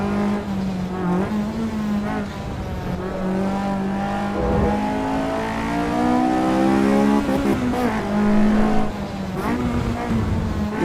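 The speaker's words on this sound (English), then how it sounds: "I'm blipping the throttle in to match the revs, so that the car doesn't get too upset." Racing car in Assetto Corsa EVO downshifting with sharp throttle blips, the engine note dropping and then rising in a steady, loud, close-up run of revs with smooth gear changes.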